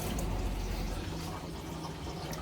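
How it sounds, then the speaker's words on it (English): Hot water runs steadily from a tap fed by a tankless water heater in a converted school bus, a constant close rushing hiss with a faint low hum underneath. "Turn on the hot water."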